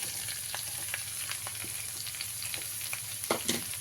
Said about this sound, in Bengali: এবারে এর মধ্যে আমি টমেটোটা দিয়ে দিলাম